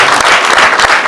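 Dense audience applause at a school celebration marking 38 years of IPM Saint Joseph, many hands clapping close and loud in a short burst.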